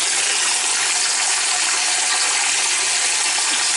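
Kenmore washer tub filling with water, a steady, broadband rushing hiss of water pouring in, constant and fairly close with no agitation or other sounds.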